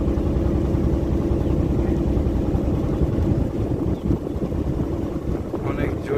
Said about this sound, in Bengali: অনেক জোরে জোরে বাতাস বইছে